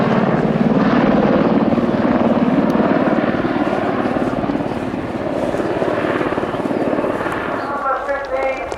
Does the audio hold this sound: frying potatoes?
no